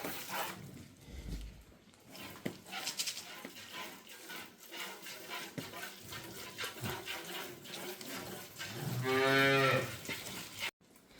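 A black pied cow of Swedish-Estonian breed gives a loud, long, drawn-out moo near the end, over a steady background of farmyard noise.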